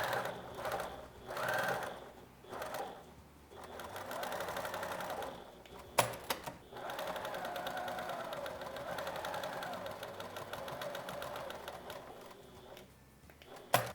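A sewing machine stitches the edges of a fabric zipper pouch with a steady, rapid mechanical whirring, close and continuous, with a short pause and a couple of clicks partway through.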